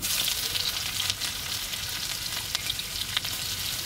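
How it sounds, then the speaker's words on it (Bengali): Onions frying in hot mustard oil, a loud, steady crackling sizzle with small pops that fills the whole stretch close up, no voices. "গরম হয়ে গেছে, পেঁয়াজগুলো তেলেতে দিয়ে দিচ্ছি"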